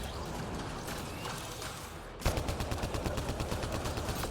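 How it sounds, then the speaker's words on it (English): Automatic gunfire in Mass Effect Andromeda aimed at a turret: a rapid, evenly spaced burst of shots breaks out midway, following a stretch of quieter game noise with fainter firing. "watching you shoot at the turret"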